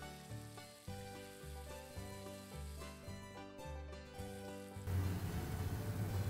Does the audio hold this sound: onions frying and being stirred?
yes